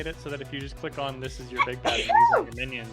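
A single sharp sneeze bursts out near the end of a group conversation, partly overlapping ongoing talk.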